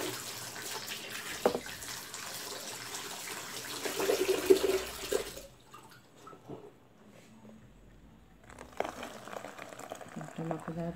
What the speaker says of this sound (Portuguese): Vou colocar essa água aqui.